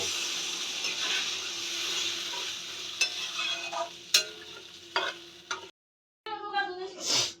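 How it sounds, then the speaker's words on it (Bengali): Water poured into a frying pan of potato curry, a loud hissing sizzle with scraping stirs and clinks, dropping to silence briefly before bubbling resumes near the end. "এবার আমি পরিমাণ মতো জল দিয়ে দেব"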